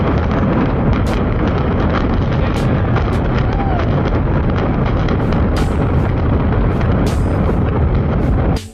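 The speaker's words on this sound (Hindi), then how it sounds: "ये धमाका इतना भयानक था कि इसकी वजह से पास की बिल्डिंग के कांच टूट गए थे" A huge explosive demolition brings down a department store building about 80 years old, producing a loud, sustained, wind-buffeted roar of blasts and rumbling collapse that fills the whole stretch before cutting off abruptly.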